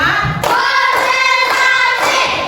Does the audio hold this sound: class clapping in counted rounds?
yes